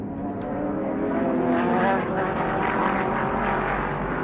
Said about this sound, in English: There's Brian Thompson's car just going through the S's